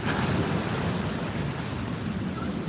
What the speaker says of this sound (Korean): 한 10m씩 파도 칠 때마다 한 10m씩 날라가